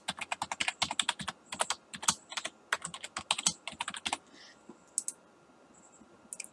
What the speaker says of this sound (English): And my name, I'm going to type my name.